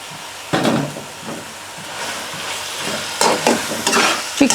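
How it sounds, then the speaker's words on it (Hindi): Chicken pieces dropped into a pan of frying onions for a pea and chicken curry: a loud burst of sizzling hiss that swells again as the pieces are stirred and shifted, close and steady, with no voice. "उसके बाद मैं इसमें चिकन ऐड करूँगी। अब मैं इसमें चिकन डाल लेती हूँ।"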